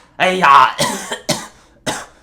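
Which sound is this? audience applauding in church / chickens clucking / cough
cough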